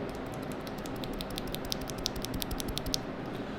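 Quiet, rapid keystrokes on an Epomaker TH80 mechanical keyboard with unlubed yellow switches, a soft irregular clatter of clicks growing slightly more distinct, no speech.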